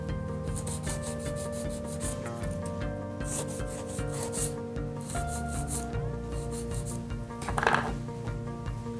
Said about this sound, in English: I'm gonna move on onto the 180 grit and just go over it a couple times